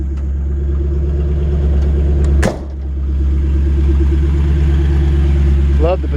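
A 1964 Ford F100 Styleside pickup idles as it warms up, a steady, loud, close rumble with a single sharp click partway through and a short whine near the end.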